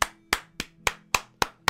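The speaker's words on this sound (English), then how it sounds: "Come on, everyone. Round of applause." Slow, evenly spaced single handclaps, about seven sharp claps in under two seconds, close and dry with nothing else behind them, as one person claps on their own.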